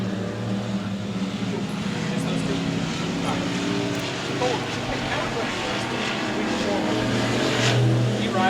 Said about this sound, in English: here comes the 113 of McClellan trying to reel in the 143 of Plank